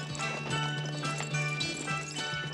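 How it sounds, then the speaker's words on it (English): Horse hooves clip-clop in a scene from an action movie, heard as a steady series of clopping beats under a constant low hum and background sound. "A horse, huh?"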